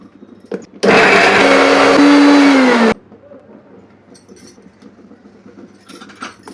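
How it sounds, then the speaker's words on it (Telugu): A mixer grinder whirs loudly for about two seconds as it grinds roasted cumin, fenugreek powder and chili powder, starting and stopping abruptly, with quieter room noise and light handling before and after. "ఈ విధంగా గ్రైండ్ చేసుకోవాలి"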